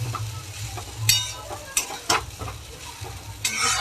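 Pasta tossed with pasta masala in a frying pan, a spoon scraping and stirring in several distinct strokes over a low steady sizzle, close by with no talking.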